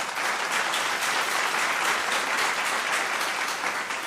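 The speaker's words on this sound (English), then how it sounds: "A round of applause for them, please." Audience at a school quiz competition applauding contestants, a loud, even wash of many hands clapping that carries on steadily for several seconds.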